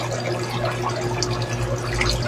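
Water dripping and trickling steadily into a tubifex worm container, a close, constant flowing sound with a low steady hum beneath.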